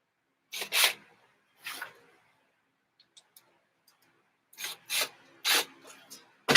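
Screw on a radio-controlled car being cranked in by hand, short rasping twists in separate bursts, two early then a cluster of four or five later, close and crisp with quiet gaps between.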